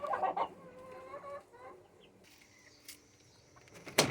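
Chickens clucking inside a backyard chicken coop, a burst of nearby clucks at the start, then quieter scattered calls and a sharp sound near the end.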